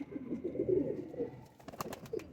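Pigeons kept for sale coo in a low, soft rumble during the breeding season, close and fairly quiet, followed by a few sharper rustles.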